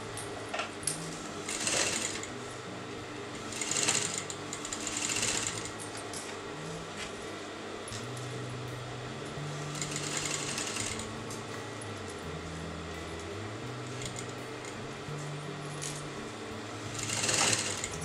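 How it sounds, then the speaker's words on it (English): A sewing machine stitches bias binding onto a kurti neckline in repeated short runs of rapid mechanical whirring, broken by brief pauses and small clicks and clatters as the fabric is turned. "you're going to sew the bias to the neckline like this."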